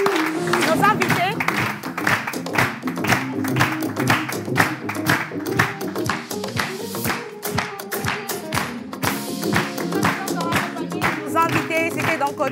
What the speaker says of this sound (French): On va vous raccompagner avec les applaudissements